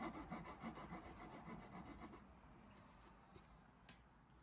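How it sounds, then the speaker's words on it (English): Handsaw strokes trim wooden plugs flush on a Japanese-style wooden box, a rapid rhythmic rasping for about two seconds, then quieter scattered scraping and light taps. "I'm just cutting these plugs down."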